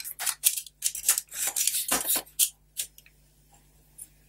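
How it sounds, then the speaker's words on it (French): Scissors snip through a paper envelope along its flap while scrapbooking, a run of close, crisp cutting strokes in irregular bursts that thin out into a few isolated snips. "Couper le long du rabat de l'enveloppe"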